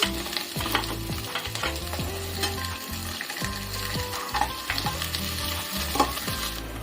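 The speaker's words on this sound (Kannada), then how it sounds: "ಚಿಲ್ಲಿ ಹಾಗೆ ಆನಿಯನ್ ಹಾಕೋಣ. ಚೆನ್ನಾಗಿ ಫ್ರೈ ಮಾಡ್ತಿದ್ದೀನ." Chopped chilli and onion sizzle in a hot pan for veg fried rice, with repeated scraping stirs of a spatula every half second or so, close and loud, no voices.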